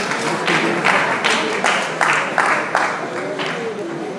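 An audience at a memorial gathering claps in rhythmic bursts, a dense patter of hands rising and falling about twice a second, with voices mixed in.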